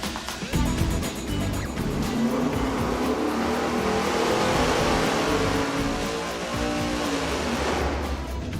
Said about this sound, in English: Now we're ready to go with mufflers. The very first one is going to be the Hooker maximum flow.